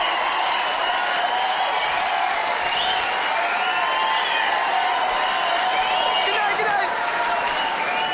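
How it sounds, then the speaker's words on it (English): Comedy show crowd in Dublin applauding and cheering, a steady, loud roar of clapping and voices that holds at an even level throughout. "Give everybody a round of applause to join in."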